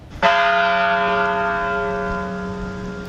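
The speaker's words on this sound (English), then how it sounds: "Church bells rang out, 26 chimes" A single church bell strikes loudly and rings on, its rich tone slowly fading and sustaining with no other sound.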